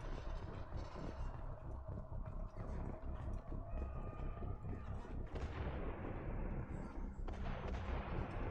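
Gunfire from a Mass Effect 2 firefight keeps up a dense, continuous barrage of shots and blasts that stays loud and steady throughout, with no speech over it.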